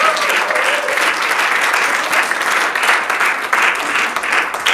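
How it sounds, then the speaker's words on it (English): An indoor audience applauds at a volunteers-of-the-month award event, dense sustained clapping that fills the whole stretch at a loud, even level. "Give Jannah a big round of applause, she comes out."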